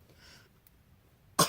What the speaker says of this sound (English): You okay? You've been coughing a lot today.